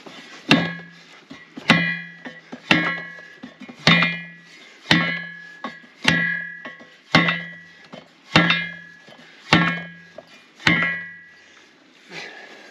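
A wooden poplar pole being driven into the ground with a hammer, about a dozen steady heavy thuds roughly one second apart, each ringing briefly with a hollow knock, close by with no talking.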